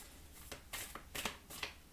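Oracle cards are shuffled in quiet, soft bursts of riffling and sliding, four or five short papery rustles over two seconds.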